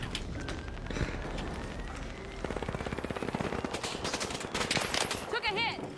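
Rapid automatic gunfire in a multiplayer shooter game, bursts of tightly spaced shots rattling in quick succession over a busy mix of other game effects, with a player voice talking over it.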